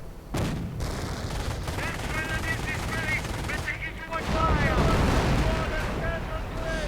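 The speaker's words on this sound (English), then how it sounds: "Grenadiers under heavy fire from a 25-pounder placed." Artillery fire from a 25-pounder and rattling gunfire in a Company of Heroes battle, dense bursts of machine-gun fire and explosions that swell louder toward the end.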